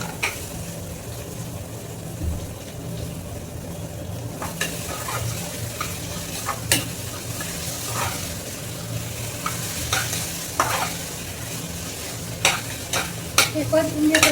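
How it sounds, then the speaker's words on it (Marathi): Chopped, washed tomatoes and chillies sauté in a pan with a continuous soft sizzle, broken by repeated scraping and clinking stirs from a utensil, close and moderately loud. "हे परतून घेते चांगलं आता"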